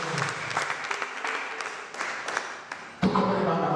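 A church congregation claps in steady, dense applause for a few seconds, briefly dips, then bursts louder again near the end, without any talking.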